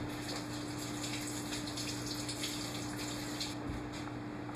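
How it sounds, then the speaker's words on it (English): Leeks cut lengthwise into quarters being rinsed under running tap water in a kitchen sink, a steady close gushing stream with a constant hum underneath, no voices. "and then give them a rinse in the sink"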